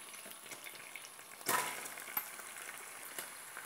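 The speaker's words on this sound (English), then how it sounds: "I've kept most of the oil in the pan because I'm going to use it to fry my onions" Onions fry in a pan of leftover oil with a low, steady sizzle, broken by one louder burst of hissing and a few small knocks of stirring.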